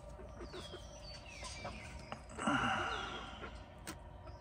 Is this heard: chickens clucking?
yes